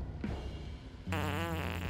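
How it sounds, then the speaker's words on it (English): A cartoonish fart sound effect in the video game Noita, a low buzzing blurt that starts suddenly about halfway through and runs for close to a second over a faint game background. "Abe would just make a farting noise."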